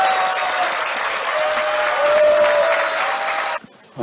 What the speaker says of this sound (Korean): 여러분 큰 박수로 맞이해 주시면 대단히 감사하겠습니다